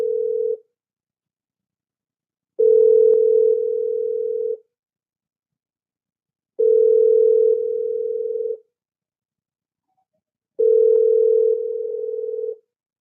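A telephone tone while a call is being placed, with four steady beeps about two seconds long, separated by silences of about two seconds, loud and clear with no other sound.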